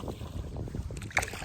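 Gusty wind at night in a marsh buffets the microphone with low rumbling, joined by faint water sloshing and a brief knock near the end.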